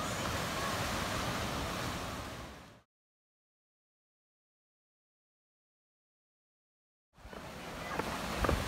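Broadband rush of surf on a sunny beach at Treasure Island, steady and fairly loud with wind mixed in, cut by a few seconds of total silence before the waves return.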